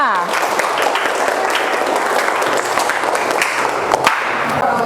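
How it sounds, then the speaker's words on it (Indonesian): A classroom group claps for the second team in a teacher-training session, a dense, steady wash of clapping hands that fills the whole stretch at close range and high volume. "kita kasih aplaus untuk kelompok 2"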